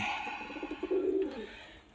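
A single short cooing phrase from a pigeon in a coop, close and fairly quiet, rising into a sustained rolling note before fading.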